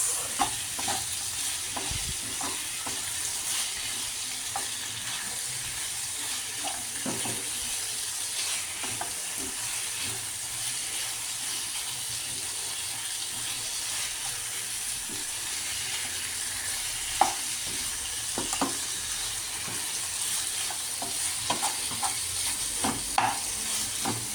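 Half a kilogram of boneless chicken frying in a pan for chicken pepper fry, a steady close sizzle and hiss with occasional clinks and scrapes of stirring throughout.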